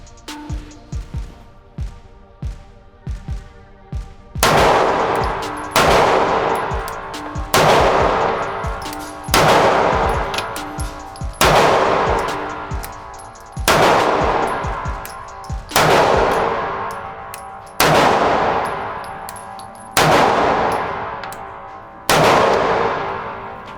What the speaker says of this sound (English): We'll run 10 rounds, sit here at 7 yards